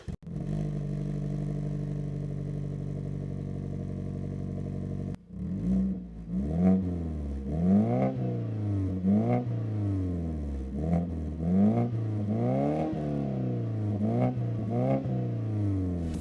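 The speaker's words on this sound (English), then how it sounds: "Just revving the car a little bit, stand still." A car engine fitted with an exhaust silencer at idle, then revved repeatedly in short bursts while stationary, each rising and falling, close by and loud with a muffled exhaust tone.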